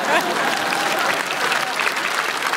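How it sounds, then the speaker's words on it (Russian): Studio audience applause at a televised comedy roast, a dense, steady wash of many hands clapping that stays loud throughout with a faint murmur of voices underneath. "Аплодисменты."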